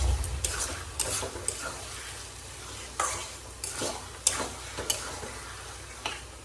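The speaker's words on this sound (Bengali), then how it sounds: "এবার এটাকে সুন্দর করে ভাজা ভাজা ভাজা ভাজা করে নেব।" Quiet sizzle of fish frying in a pan, broken by intermittent scraping strokes of a spatula and occasional clinks.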